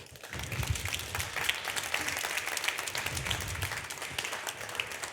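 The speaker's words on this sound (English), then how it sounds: "please welcome dentist and research assistant at Queen Mary University, Emily Sara Thambi, with a big round of applause" A dental conference audience claps to welcome a speaker. The applause is dense and steady, with close, sharp individual claps throughout about five seconds, and no speech over it.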